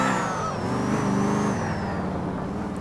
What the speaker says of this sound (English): the way the charger picked up, like, when I stepped on the gas